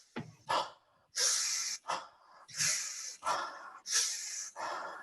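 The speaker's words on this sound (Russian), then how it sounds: "Another method, another way, another practice is powerful, energetic breathing." Intense, powerful breathing exercise at a breathwork seminar: a series of about seven forceful, rhythmic huffs and snorts, close and loud, with short pauses between breaths and no talking.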